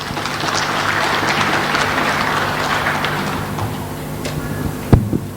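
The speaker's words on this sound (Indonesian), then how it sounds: "Sekali lagi kita berikan tepuk tangan yang meriah buat Tuhan Yesus." Church congregation applauding during a Sunday service, a dense, steady wash of clapping from many hands that holds for several seconds and then thins out near the end.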